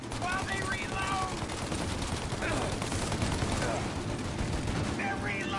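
Sustained automatic gunfire during a shootout in the Mafia 1 remake, a loud continuous fusillade of rapid shots layered with game effects, with faint voices in the mix.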